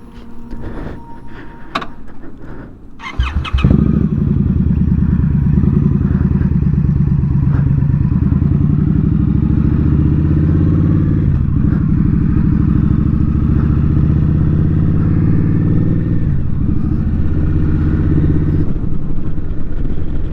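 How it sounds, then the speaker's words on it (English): A motorcycle riding along Skyline Drive in Shenandoah National Park: a few knocks and clatters, then the engine starts steady and loud, a close continuous drone that holds for the rest of the ride. "So let's hop back on the bike and check out some more."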